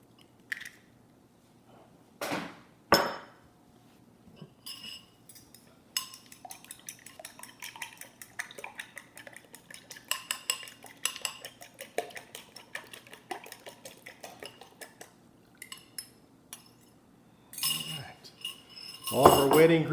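Two large eggs being beaten and hushpuppy batter mixed in a bowl: scattered clinks and scrapes of a utensil against the bowl, irregular and fairly close, with a few louder knocks and faint voices in between.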